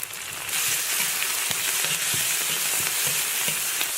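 Scallion, ginger, garlic, dried chili and Sichuan peppercorns stir-fry in a little oil in a wok, a dense close sizzle with soft scraping strokes of a spatula throughout.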